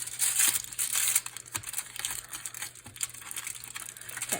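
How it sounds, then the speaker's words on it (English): A reflective sheet being trimmed to fit inside a light-up specimen slide box, heard as close, continuous crinkling and rustling of the sheet with scattered crisp tearing and snipping bursts, steady and fairly loud, with no voices. "so we're going to need to do a little trimming."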